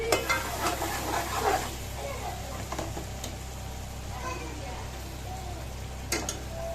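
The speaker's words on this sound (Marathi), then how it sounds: "आता हे तेल सुटेपर्यंत चांगलं परतवून घ्यायचंय" Ground masala paste for mutton rassa fries in oil, a soft continuous sizzle with scraping stirs that are louder at the start and occasional sharper clicks later, while a voice speaks nearby.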